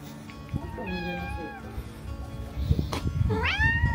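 A cat gives two clear meows close by, one drawn out and one rising, over background noise and low rumbling.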